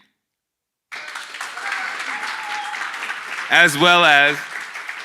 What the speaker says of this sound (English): Let's have a big round of applause for all of our speakers this evening.